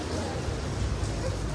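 Steady rain falling in Solikamsk, a continuous dense hiss that holds evenly at moderate level throughout with no other distinct sounds.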